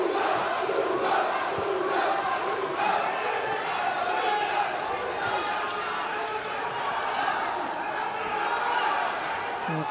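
Crowd at a judo match, a steady loud roar of many voices with shouts rising throughout and no break.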